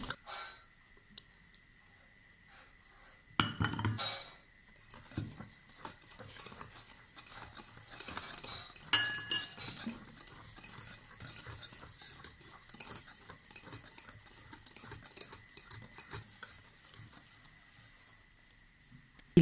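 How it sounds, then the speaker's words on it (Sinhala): Spoon stirring cupcake batter in a cup or bowl, a steady, soft scraping and clinking that runs throughout at close range, with a louder burst of clatter near the start, no voices. "මේ ටික හොඳට විනාඩි 2ක් විතර කලවම් කරගන්න ඕනි."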